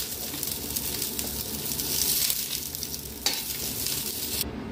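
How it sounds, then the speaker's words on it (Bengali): Fried cauliflower florets are lifted out of hot oil in a kadai, with a continuous close sizzle of frying and light scraping and stirring sounds. "ফুলকপিগুলো ভাজা হয়ে গেছে, আমি এবারে এগুলো তুলে নিচ্ছি।"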